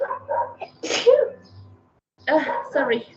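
A person's sneeze bursts out in a class, between stretches of speech, loud and close.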